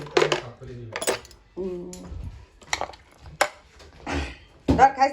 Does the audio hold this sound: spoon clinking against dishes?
yes